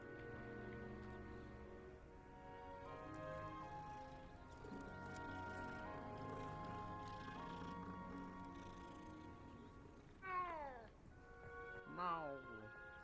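Cat meowing in the video game Hogwarts Legacy, two short rising-and-falling meows near the end, heard over sustained background music with a voice speaking earlier.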